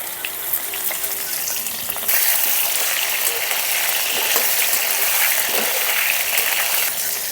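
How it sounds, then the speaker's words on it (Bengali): Potatoes fry in hot oil with a little salt, a loud steady close sizzle that swells stronger partway through, with occasional stirring scrapes. "এই আলুর মধ্যে সামান্য লবণ দিয়ে আলুগুলোকে ভেজে নেব লাল লাল করে।"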